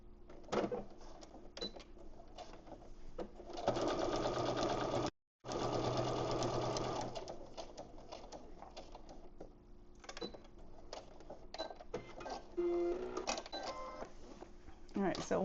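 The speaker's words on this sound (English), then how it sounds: "we're going to back stitch at the beginning and the end, sewing straight down that line we made" A domestic sewing machine back stitches a straight seam for a fabric bow with long tails, running in loud close bursts of rapid stitching with brief pauses, while a person talks between runs.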